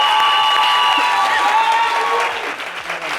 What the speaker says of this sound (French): Applaudissez pour Madame Seka, s'il vous plaît